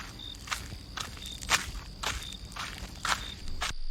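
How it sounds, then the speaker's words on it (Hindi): Footsteps tread at a steady pace outside a temple door, about six distinct steps over a faint background hum, growing slightly louder before stopping. "तभी मंदिर के दरवाजे के बाहर किसी के आने की आवाज सुनाई दी।"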